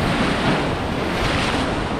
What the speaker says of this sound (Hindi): सामने से पानी आ रहा है।